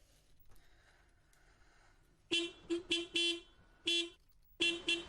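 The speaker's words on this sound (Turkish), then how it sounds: "Ay kim kornaya basıyor böyle?" A car horn honks in a series of short, loud toots, some doubled, sounding close by after a quiet stretch of faint background noise.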